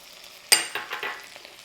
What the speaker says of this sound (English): So we've got our soup pot over medium heat and we're going to melt 2 tablespoons of butter. Then we'll add a 1/4 cup of chopped onion